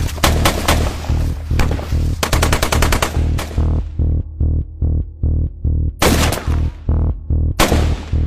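Gunfire in an Indian army war movie: rapid machine-gun bursts at close range, loud and dense, breaking into regular spaced single shots before more sustained bursts return; no speech.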